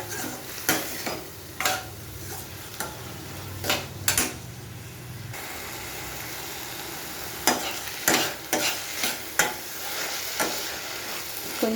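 Soaked urad dal frying in a pan for a spinach curry, stirred with a utensil that scrapes and clinks against the pan in irregular bursts over a continuous sizzle.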